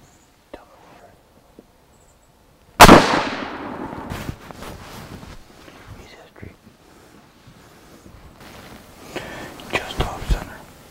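A single sharp rifle shot at a buck during a Wisconsin deer hunt cracks out loudly and close, then rings off into quiet woods while hushed voices and rustling follow.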